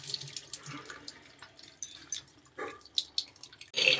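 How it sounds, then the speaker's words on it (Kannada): Hyacinth beans are rinsed under a running kitchen tap, with a steady splash of water into a sink and a few drips and clatters, close and alone with no talk. "ಅವರೆಕಾಳನ್ನ ನೀಟಾಗಿ ವಾಶ್ ಮಾಡ್ಕೋಬೇಕು."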